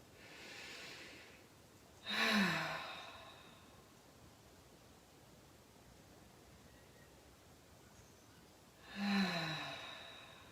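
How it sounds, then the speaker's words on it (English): Two slow, deep breaths during a gentle autumn yoga flow, each a soft nasal inhale followed by an audible sighing exhale through the mouth, close and quiet with long pauses between. "Deep inhale through the nose, exhale out the mouth."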